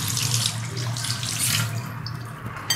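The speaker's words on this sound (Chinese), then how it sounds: "然后我要洗一下香干" Tap water running steadily into a kitchen sink while dried tofu is rinsed, close and continuous with a gurgling splash, then tapering near the end, with no talking.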